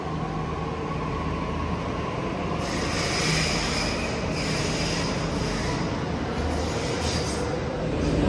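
A crowded Delhi metro train runs along the track with a steady rumbling roar, rattling wheels and a faint high whine, loud and continuous from start to end.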